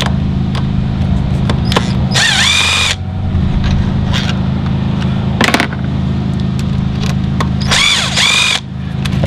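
A power tool spins bolts out of a Volkswagen GTI engine during cam follower work, with several sharp high-pitched whirring bursts over a steady low hum from a carpet cleaner running across the street.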